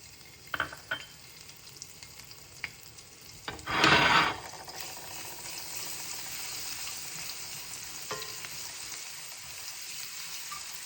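Garlic drops into hot oil in a pan, with a few sharp clicks, then a loud burst of spattering that settles into a steady, moderate frying sizzle.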